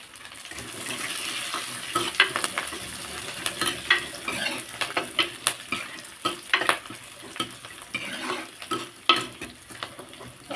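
Ingredients sautéing in oil in a pan while cooking green gram kadayal, with a steady sizzle broken by frequent sharp stirring scrapes and clicks, close and fairly loud, no talking.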